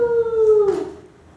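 A person lets out one long, falling howl outdoors, trying to call Bigfoot, imitating an animal cry. It starts strong and tapers off within about a second into quiet.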